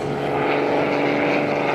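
A stunt plane at an airshow drones loudly through a heavy high-G turn, its propeller engine holding a steady, sustained pitch for the whole short stretch.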